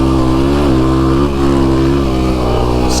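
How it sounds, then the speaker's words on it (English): Car engine with a new Vortex ECU tune giving quick throttle blips during downshifts, a loud, close, steady engine drone that surges and dips briefly in pitch. "as I downshift, I like to give little throttle blips"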